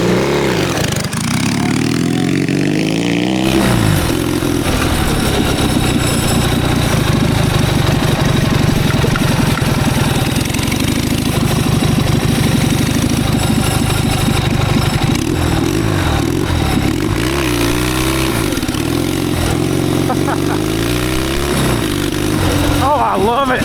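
A twin-cylinder, four-speed mini bike fitted with a custom stainless steel exhaust idles steadily and loudly close by, a low throbbing rumble with a brief rev near the start, while people talk over it.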